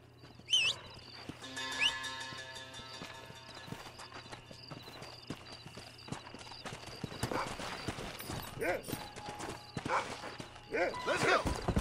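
Horse hooves clip-clopping with a sharp neigh near the start, in the Red Dead Redemption video game, the trotting steady throughout and growing louder toward the end, with people talking over it.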